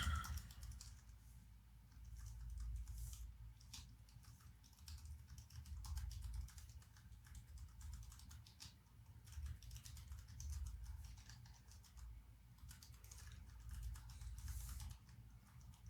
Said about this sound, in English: let us type launcher discovery request